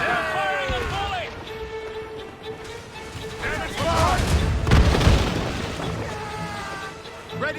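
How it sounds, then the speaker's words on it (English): Ship cannons firing a volley during a naval battle in Assassin's Creed Rogue, deep booms rolling under shouted crew voices, with a heavier cluster of blasts landing near the middle. "They're firing a volley!"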